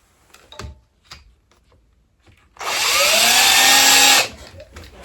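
A few quiet clicks and knocks, then a cordless power driver whirs loudly for about two seconds, its pitch climbing as a screw goes in while fitting a window blind.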